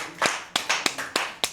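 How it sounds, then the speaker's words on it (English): Five sharp, evenly spaced hand claps ring out from game show contestants in a quick, fairly close series, with no talking over them. "Give yourselves a round of applause."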